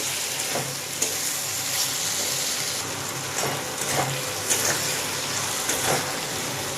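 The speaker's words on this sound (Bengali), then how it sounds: "এইভাবে নাড়তে নাড়তে চিনিটা গলে আসবে।" Sugar melts in an apple pickle as it is stirred, giving a steady bubbling sizzle throughout with periodic scraping strokes of the spoon at close range and no voices.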